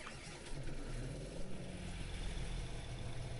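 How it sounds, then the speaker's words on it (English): Tractor engine in Farming Simulator 22 on an Iowa plains map, a steady low drone with a constant rumble and mild fluctuations throughout, fairly quiet and with no talk. "I got tractor running."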